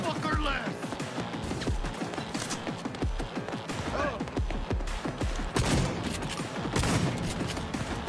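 Shotgun blasts in the video game Cyberpunk 2077, a rapid series of loud booming shots and crashes with game effects, and a voice talking over the gunfire throughout.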